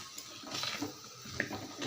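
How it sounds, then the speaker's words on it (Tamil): Tamarind water is poured into a pot of prawn curry with short splashing and gurgling bursts at close range, fairly quiet. "புளி தண்ணி எடுத்து ஊற்றிக்கலாம்"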